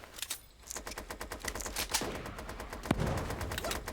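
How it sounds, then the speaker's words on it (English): Rapid automatic gunfire in a video game: dense, fast bursts of close shots in a continuous rattling stream, with louder cracks toward the end and no talking. "He's shooting at me."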